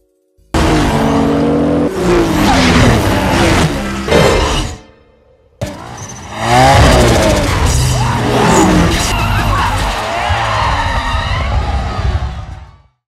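Race cars in an illegal street race roar and rev loudly, with screeching tire squeals and skids, a brief cut to silence, then more engine roaring and squealing tires close by.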